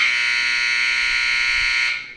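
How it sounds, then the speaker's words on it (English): A shot clock game buzzer from a timer app blares as one continuous harsh electronic tone, loud and close for about two seconds before stopping cleanly. "As you get that lovely shot clock game buzzer sound"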